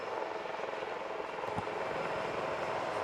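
Two Indian Navy Advanced Light Helicopters flying over Puri beach during a Navy Day rehearsal, a steady, fairly distant rotor and engine roar that fills the clip without pause.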